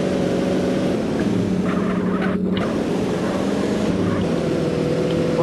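A car engine in the video game GTA San Andreas drones steadily throughout, a loud continuous low rumble without breaks or speech.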